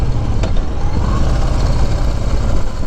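A 2021 Harley-Davidson Low Rider S with a Stage 2 exhaust on the move: a steady, loud engine rumble mixed with road and wind noise, without pause.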